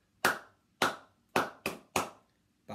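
Five sharp hand claps in a steady rhythm, loud and close, with short silent gaps between them and a sixth clap just starting at the end.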